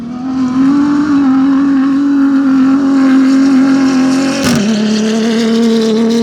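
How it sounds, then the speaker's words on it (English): A Motul Aramco sponsored Dakar rally truck drives through the desert, its engine droning loud and steady with a sustained low note, then a brief gear-change dip before the roar settles again. "That's one of the Motul Aramco sponsored trucks or cars."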